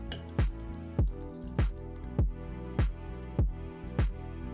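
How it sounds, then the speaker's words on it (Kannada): Thin vegetable spring roll batter with a little sugar is stirred in a bowl, making a regular series of wet, squelching plops about every half second, close and without speech. "ಈಗ ಇದನ್ನ ಗಂಟಿಲ್ದಂಗ ಚೆಂದಾಗಿ ಮಿಕ್ಸ್ ಮಾಡ್ಕೊಳ್ಳೋಣ."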